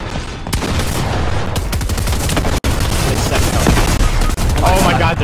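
Rapid bursts of gunfire from a Fortnite match crackle loud and dense, nearly continuous over a few seconds, with a brief gap midway and a player's voice faintly under the shots.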